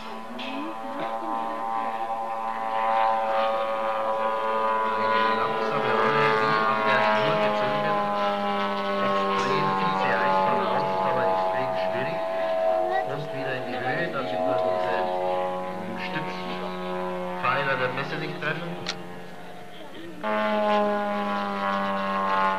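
A large model airplane with a 2.85 m wingspan flies slowly at a model show, its engine giving a steady droning buzz with a shifting pitch, while someone talks over it.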